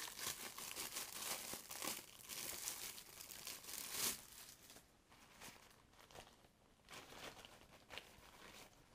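A plastic transport bag for Beats Dr Dre Detox headphones is opened, giving steady crinkling and crumpling with a few sharper tearing bursts throughout, fairly quiet and close.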